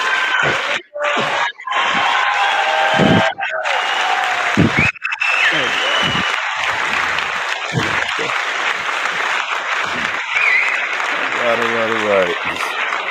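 An audience claps to welcome trucking entrepreneur Corey Langley to an interview. The clapping is loud and close, broken by brief gaps, with scattered voices and a short whoop over it.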